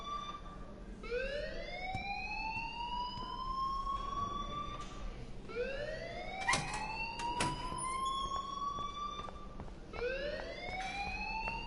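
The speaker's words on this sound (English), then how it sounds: "please turn off that alarm since that's your job" A rising, wailing electronic alarm in the video game Life is Strange, repeating in long sweeping cycles of about four seconds, loud and continuous with a few sharp clicks between sweeps.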